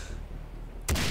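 Gunfire in the shooter game Far Cry 3 Blood Dragon bursts in near the end after a long stretch of low background rumble, a loud broadband crack or short burst that rings on briefly.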